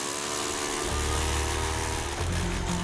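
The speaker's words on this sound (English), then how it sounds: "We drill another hole, hoping to hit the right spot." Motorized ice auger boring a hole through very thick ice on a long frozen lake while ice fishing, a loud steady engine drone that bogs slightly and revs on as the bit cuts.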